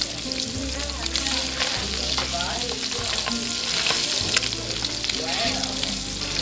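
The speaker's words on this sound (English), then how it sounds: "when you brown the butter, you get a really nice nutty smell from it, nutty flavor off it" Butter browns in a hot pan on a restaurant stove, giving a loud, continuous close sizzle and crackle with stirring and scraping noises, plus a little background voice.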